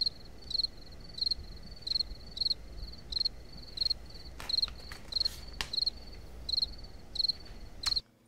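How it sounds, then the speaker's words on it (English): Crickets chirp in steady, evenly spaced bursts, repeating about once every half second through the whole stretch over a soft background hiss, with no talking. "Just some simple crickets."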